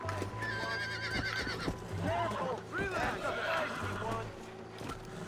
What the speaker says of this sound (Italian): Mai beccato un cavallo così difficile da domare.